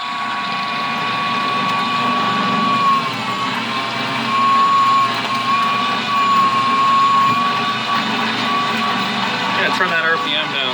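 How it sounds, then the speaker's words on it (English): A lathe drilling a part with a 15/16 core drill and 1-inch pilot at about 330 RPM, tailstock locked; a steady loud machine drone with a sustained high cutting whine throughout, close up. "a 15/16 core drill with a 1-inch pilot in the part, and I'm spinning about, I don't know, 330 RPM"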